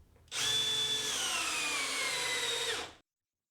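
A Milwaukee M12 driver sinks a screw into wood in one continuous whining burst of about two and a half seconds, loud and close, its pitch sliding slightly as the screw seats, then stopping abruptly.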